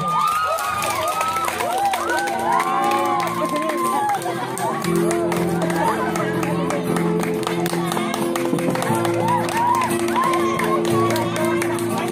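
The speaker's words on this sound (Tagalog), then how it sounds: "atong talamasipang palakpak the debutant with a standing ovation" A crowd cheers and claps to welcome a debutante at a festive countryside gathering, a loud continuous roar of voices and applause over music, with people talking throughout.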